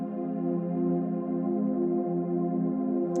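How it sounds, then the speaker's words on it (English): Dark synth pads for a remix hold a sustained minor chord, a smooth steady atmospheric drone with a dense low-mid body and no talking. "pads and atmospheric sounds like this,"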